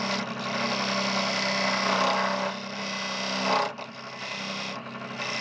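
A hand cutting tool scrapes and rasps against a workpiece while a fishing reel is being made, producing a steady grinding stroke that pauses briefly and resumes, close and moderately loud without talk.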